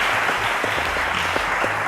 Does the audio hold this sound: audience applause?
yes